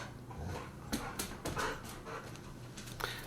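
A dog pants in quick, breathy bursts, faint and close, with a few scuffling sounds and no talking.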